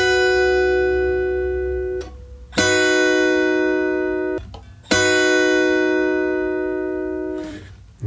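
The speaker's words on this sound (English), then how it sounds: "So we're going to play a cluster of notes." A guitar strums a cluster of notes on the top three strings together, three times. Each chord rings out sustained and bright and is cut short before the next strum.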